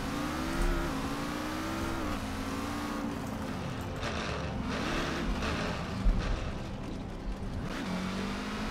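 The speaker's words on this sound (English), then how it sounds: "gearing doesn't sound too good in this car" A car engine in Forza Horizon 4's LEGO Speed Champions expansion, played on a wheel, revs and shifts through gears, rising and falling whine over a steady motor drone, loud and continuous.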